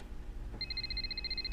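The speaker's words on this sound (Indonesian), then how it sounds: "Acosta tiba-tiba mendapatkan telepon dari Prancis" A telephone rings in a film scene, a steady repeating electronic trill that starts about a third of the way in and continues clearly over a low background hum.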